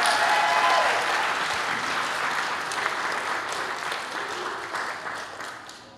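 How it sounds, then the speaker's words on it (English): Audience applause for a children's vacation Bible school singing performance, a dense steady wash of many hands clapping that fills the room loudly and slowly tapers toward the end. "let's clap one more time for these amazing kids."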